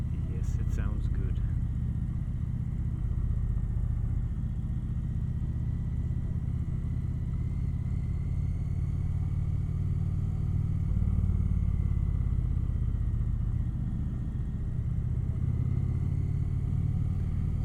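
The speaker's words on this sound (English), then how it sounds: "Such a nice sound of the motor on this thing though" A 2025 Indian Chieftain Powerplus Dark Horse motorcycle engine rumbles steadily at a low idle, a deep continuous drone held throughout with a brief rise near the end, while a rider talks over it.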